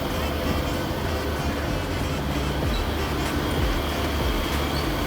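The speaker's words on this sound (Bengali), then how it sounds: "এই আমাদের ট্রেন সামনের দিক থেকে আস্তে আস্তে এগিয়ে যাচ্ছে।" A local train rolls slowly out of Howrah station, giving a steady, loud rumble of wheels and carriages with faint squeals and a continuous noisy wash throughout.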